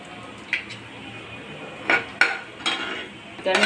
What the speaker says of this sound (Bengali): এবার একটু ভালো করে নেড়ে দিচ্ছি।